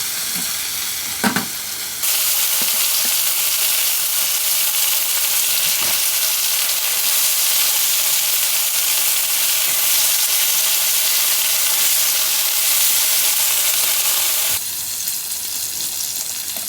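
Steaks sear in a pan at a winter campsite during a blizzard, a loud steady sizzle running unbroken for most of the stretch, with a few soft clinks near the start.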